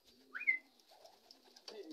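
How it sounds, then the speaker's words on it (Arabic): Racing pigeons cooing softly during a free-flight session, a few low throaty coos and a brief chirp close by, faint against a quiet background with no talking. "هذا الحمام هذا الحمد لله موجود الحمام"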